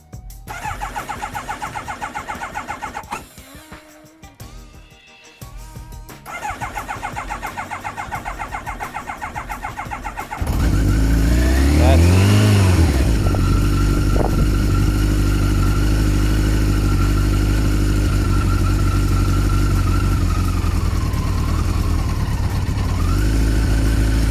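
A Kawasaki GPZ900R A5 motorcycle with about 42,000 km cranks with a starter whir, fires up and settles into a steady, loud, close idle with a few light revs, no talking over it.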